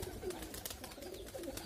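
A flock of pigeons coos steadily in low, overlapping murmurs, close by and continuous, with a faint hum of wind or traffic underneath.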